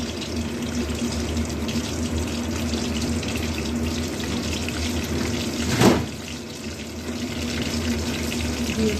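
Cardamom and cinnamon dropped into a small amount of hot oil for tempering in a pointed gourd dish. A steady, close hissing sizzle with one brief louder flare partway through, and no voices.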